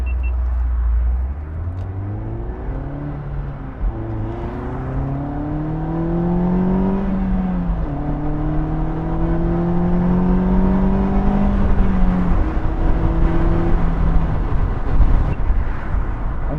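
A 2005 Honda S2000 driving with the top down, its engine note rising and falling through gear changes as it accelerates, steady and close with road rumble and wind underneath, no talking.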